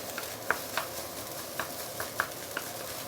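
Seafood fried rice with egg being stirred in a pan: a soft frying hiss runs throughout, broken by light scraping taps of a utensil about every half second, fairly quiet with no voices.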